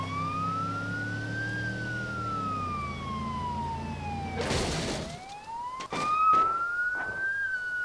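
An ambulance siren in the BeamNG.drive driving game, a steady wailing tone rising and falling slowly, broken midway by a burst of crashing noise and several sharp knocks before the wail resumes.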